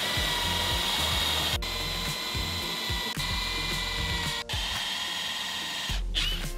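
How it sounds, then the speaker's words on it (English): A power drill with a step drill bit grinds steadily through material, a loud continuous whine with rough scraping, briefly cutting out a few times before starting again. "I'm going to start off with a stepped bit."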